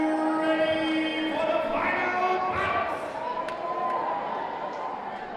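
Crowd at a CFL combat fight night in South Africa, excited just before the main event and final bout, a dense roar of voices and cheering with scattered thumps, steady and loud throughout.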